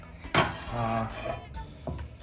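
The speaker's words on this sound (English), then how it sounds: "we're gonna throw it into a frying pan" Clattering metal kitchenware with a thump and sizzle as food lands in an oiled frying pan, a few clinks after, fairly quiet and close.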